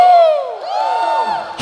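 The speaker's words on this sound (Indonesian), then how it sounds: "Sorakan." A church congregation at a New Year worship service cheering and shouting together, a loud sustained crowd roar of voices with a rising whoop, close and full.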